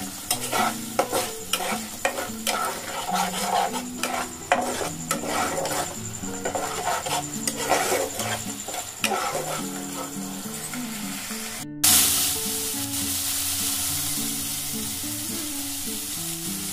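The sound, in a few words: spices with cumin powder being stir-fried in a pan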